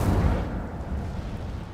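The Incendio fire spell cast in a Harry Potter game at Hogwarts, a heavy booming whoosh that hits hard at the start and then rumbles and fades.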